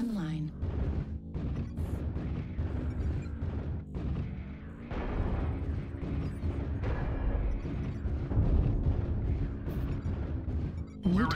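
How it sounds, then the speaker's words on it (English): Artillery strike explosions in a mech video game, a steady roar of booms and crashes layered with battle noise, with a synthetic voice announcing targets over the din. "Artillery strike activated."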